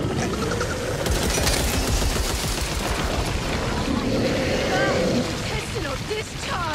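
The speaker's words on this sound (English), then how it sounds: "Pistol discharge!" Pistol gunfire in a video game, a few sharp shots breaking out over a dense, noisy game mix with shouting voices.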